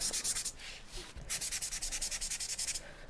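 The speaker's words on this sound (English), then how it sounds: "We're just going to soften these snowflakes a little. So I'm just going to lightly sand them." Fine sandpaper lightly sands painted snowflakes, a rhythmic series of soft, close rasping strokes, about a dozen quick back-and-forth rubs in bursts with a short pause between.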